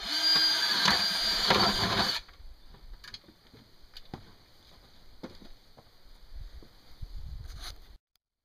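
A loud power drill whirs briefly, boring a 1.5-inch hole through a plastic bucket lid, then stops; afterward, quieter clicks, taps and shuffling handling noises follow, with a faint steady whine.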